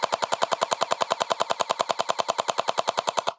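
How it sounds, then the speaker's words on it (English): A Nerf Pro Gel Fire Mythic gel blaster fires on full auto in a fast, steady stream of sharp, evenly spaced shots, about a dozen per second for over three seconds, loud and close with no talking. "in full auto, it's firing faster than I think anybody could click the switch inside"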